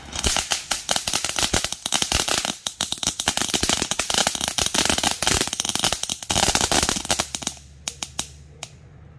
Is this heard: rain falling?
no